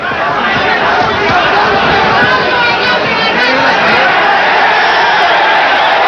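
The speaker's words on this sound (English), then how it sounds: "Crowd yells." Boxing crowd at a Samuel Serrano vs Julio Valdez fight yelling and roaring in a dense, loud, continuous wall of voices, with a commentator's voice running over it.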